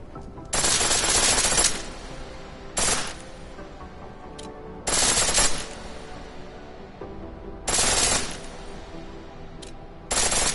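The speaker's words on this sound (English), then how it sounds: "The pistol in full auto will take down targets fast" Pistol firing in full auto in Deus Ex: Mankind Divided, several loud rapid bursts of gunfire about a second long separated by short pauses, with a few single shots between.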